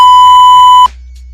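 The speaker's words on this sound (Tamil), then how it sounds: "நம்ம வாட்டர் அலாரம் சிஸ்டம் பர்ஃபெக்டாக ஒர்க் ஆகுது" A homemade water overflow alarm gives one loud, steady, high electronic beep that cuts off abruptly, leaving a low hum.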